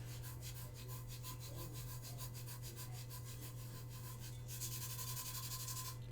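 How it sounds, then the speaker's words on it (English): Steady hand rubbing of Tack-It paint finish across a wooden piece, a continuous close scrubbing texture with rhythmic strokes, carrying on without pause and alone, with no talking. "I keep a little brush to brush off my excess so I see where I need to keep rubbing."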